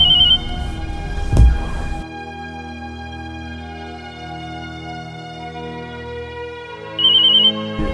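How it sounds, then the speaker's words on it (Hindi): An electronic phone ringtone plays a sustained, looping melody with tones that sound up and fall away, repeating for several seconds with no talking. "ये मुझे क्यों बार बार कॉल कर रही है?"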